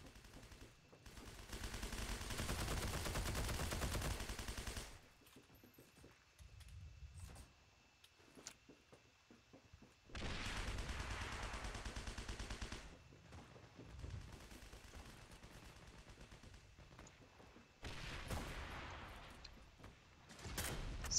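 Rifle gunfire in the video game Heroes & Generals comes in bursts of sharp rapid shots separated by quieter gaps, fairly faint overall.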